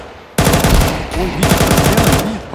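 Rapid, loud gunfire bursts in a competitive video game match, Pavaga Premier League Uncle Skufs vs Underdogs, sounding close in two dense volleys separated by a short lull.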